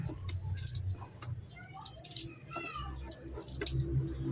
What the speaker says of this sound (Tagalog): So, bilangin natin ating barya.